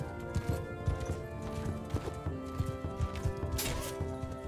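Horses clip-clopping and galloping in a Mount & Blade II: Bannerlord battle among horse archers, with steady rhythmic hoofbeats over a busy game soundscape and a brief whinny-like burst near the end.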